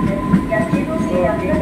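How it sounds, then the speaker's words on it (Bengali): A train rolls along the rails in the rain, a steady close rumble with faint clatter, heard without speech. "তো ট্রেনটা কীভাবে বেঁকে যাচ্ছে।"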